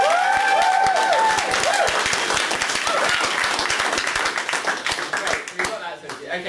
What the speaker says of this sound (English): I think that's a huge round of applause.